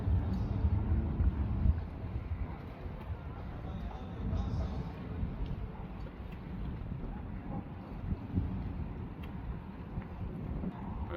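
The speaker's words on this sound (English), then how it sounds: "This is the sound of a solo sailor sailing out into the night from" A solo sailboat heading out of Mindelo Bay at night, with a steady low rush of water and wind against the hull and a continuous rumble, fairly even in level throughout with no voices.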